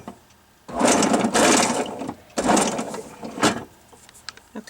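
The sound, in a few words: deburring a hole in silverware jewelry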